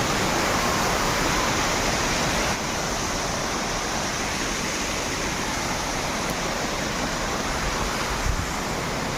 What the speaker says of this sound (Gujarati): કેવા ઝરણા.